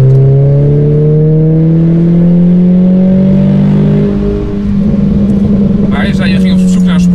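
A Renault Clio IV RS engine running with its rear muffler replaced by a straight pipe, a loud, steady low drone with a rising tone, with a brief rougher burst near the end.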